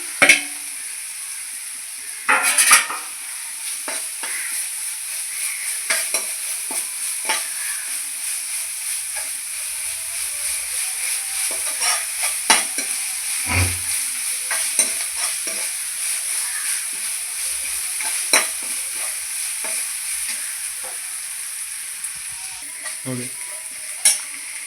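Ginger stir-fried with clams in a pan for a clam roast, sizzling continuously with scattered scrapes and clinks of the stirring spoon.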